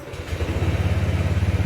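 A motorbike engine fires up and settles into a steady, pulsing idle inside an underground basement garage, its low throb close and fairly loud with no talk over it.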